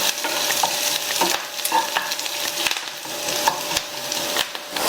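Onions sizzle and fry with asafoetida and curry leaves in a pan, a steady loud hiss broken by clicks and scrapes as the spoon stirs, with no voices.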